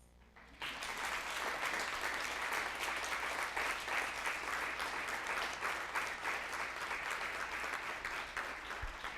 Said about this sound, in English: I think that deserves an applause.